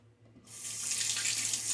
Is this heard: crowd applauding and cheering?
no